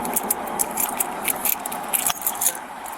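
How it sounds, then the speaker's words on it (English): Keys jangle and clink in quick, bright bursts during a police pat-down search, close and fairly loud, with no talking. "Keys."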